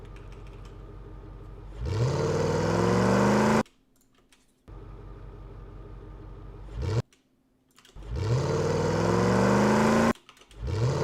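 A designed sputtery engine effect repeats in loud bursts of rough, rising mechanical whine and rattle, broken by short gaps of near silence, with no talk.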